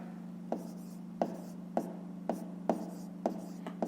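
A pen writes math working on paper for a fifth-grade exercise, with quiet scratching strokes and several distinct taps at regular intervals against a steady low hum.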